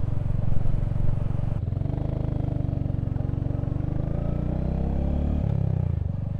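A Royal Enfield Hunter 350 single-cylinder engine, fitted with a 16-tooth sprocket, drones near its rev limit while riding on a road, a loud steady thumping buzz with a slight pitch change and drop near the end.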